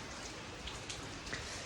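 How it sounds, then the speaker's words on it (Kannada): Heavy rain falls in Coorg, a soft, even wash of patter with scattered drip ticks, fairly faint and without voices. "ಇಲ್ಲಂತರೂ ಫುಲ್ ಅಂದ್ರೆ ಫುಲ್ ಮಳೆ ಅದ್ರಿ."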